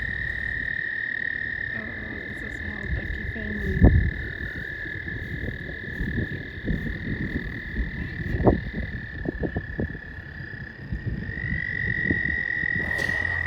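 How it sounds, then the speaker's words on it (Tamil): Frogs croak near a river on a nature walk in a steady outdoor chorus. A thin constant high tone runs throughout, with louder croaks popping out here and there. "அந்த ஆற்றுக்கிட்டேயோ இல்லை அங்கே அந்த தவளைங்களோட அந்த சத்தம்,"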